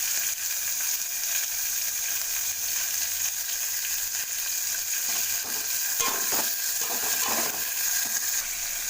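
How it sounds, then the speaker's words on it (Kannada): Tomato, mint and coriander leaves sauté in hot oil with a steady, close sizzle, and stirring scrapes clatter in the second half. No one talks. "ಇದೆಲ್ಲ ಎಣ್ಣೆಯಲ್ಲಿ ಬಾಡಿಸ್ಬೇಕು ಚೆನ್ನಾಗಿ"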